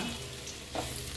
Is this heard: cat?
no